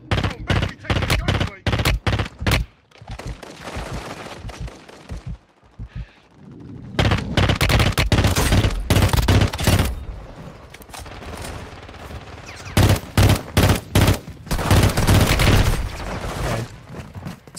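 Burst rifle fire crackles in Warzone Mobile, rapid clustered bursts of loud close gunshots separated by short pauses, with a quieter stretch midway before the shooting resumes in dense volleys.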